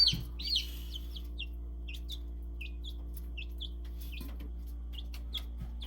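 Quail in a brooder give short, high chirping clucks in a scattered string, faint and close over a steady low hum.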